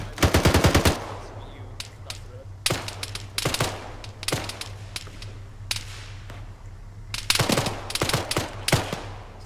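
Automatic and single-shot gunfire in Arma 3 during a military training session, sharp cracks in a rapid burst at the start, then scattered shots and further bursts throughout, fairly close.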